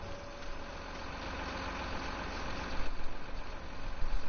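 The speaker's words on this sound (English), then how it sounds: "It's the same engine sound." A farm vehicle's engine in Farming Simulator 19 runs continuously with a steady, dense rumble that swells slightly toward the end, loud and uninterrupted, with no talking.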